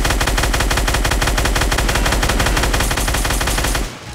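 Rapid automatic gunfire from a gun in the Roblox video game, a loud, continuous stream of evenly spaced shots that stops abruptly near the end.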